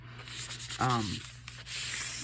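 Short rough rubbing strokes on red clay dyed paper, like sanding by hand but without sandpaper, close up, with a brief tonal squeak in the middle.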